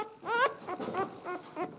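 A young tricolor puppy from a litter gives several short, high whimpers and whines in quick succession, close and fairly soft.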